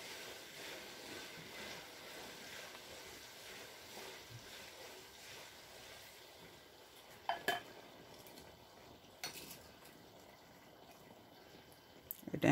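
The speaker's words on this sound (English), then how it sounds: "Stir it again." Jollof rice is stirred in a pot, making faint scraping and stirring sounds, with a few sharp utensil clinks against the pot near the end.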